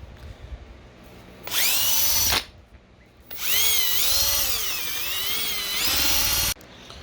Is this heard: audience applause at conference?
no